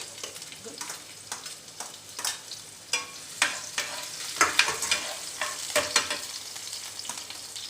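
Curry leaves and green chillies crackle in hot oil while a spoon stirs and scrapes the pan, giving sharp irregular pops and clicks over a continuous close sizzle.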